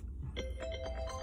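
A phone ringtone for an incoming call, a short repeating electronic melody of bright tones, moderately loud over a low steady hum.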